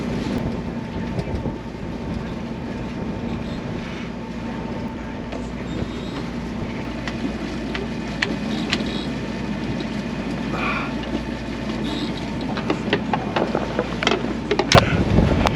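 Steady broadband wind roar on a sailboat under way on Lake Huron, with rushing air and water noise filling the whole span and a few sharper knocks near the end.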